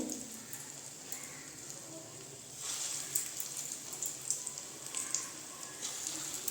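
Masoor lentil fritters mixed with onion, chilli, turmeric and salt fry in hot oil, making a steady soft sizzle and hiss throughout with no talking.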